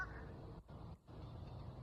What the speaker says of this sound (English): Some kind of bird's making a noise.